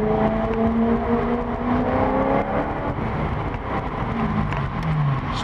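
A Maserati GranTurismo S engine drones continuously and fairly loud, its layered tones sliding up and down with shifting revs as the car drives, without any talking.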